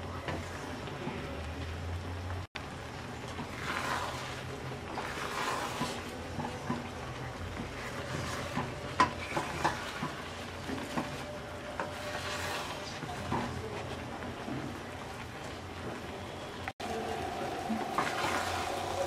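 Plum pickle cooked with jaggery simmers on medium heat while being stirred, giving a steady, watery bubbling hiss with occasional scraping strokes throughout, and no talking.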